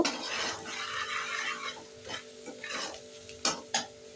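Ground cumin, turmeric, Kashmiri chili powder and salt fry in a pan with a soft crackling sizzle, broken by several scraping stirs and a couple of sharper clinks of the spoon near the end.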